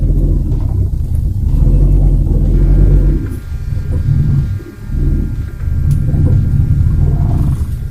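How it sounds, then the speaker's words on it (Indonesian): A manual car's engine rumbles low while the car reverses up an incline, swelling and dipping with the throttle, with a brief lull midway before the drone resumes. "tinggal buka kopling sedikit, jadi ada tenaga, lepas rem tangan mobil yang mundur"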